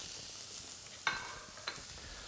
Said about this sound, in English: It's really important that that pan sizzles